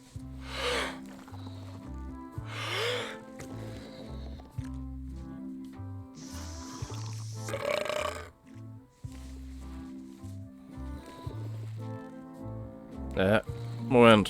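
A blowfish burping contest in the video game Return to Monkey Island: several squishy, gassy burp-like bursts rise over a steady, bouncy game music bed, spaced irregularly with a louder, crackling one near the end.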